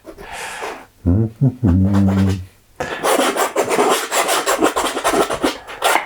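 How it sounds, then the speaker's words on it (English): A palette knife scrapes and drags paint across a canvas, with a short rasp, then a pause, then a longer run of rough, rhythmic scratching strokes close up and loud. "Put some more stuff here with this palette knife."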